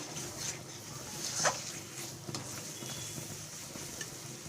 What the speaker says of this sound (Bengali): আস্তে আস্তে আমি মশলাটাকে কষে নেব যাতে নিচে ধরে না যায়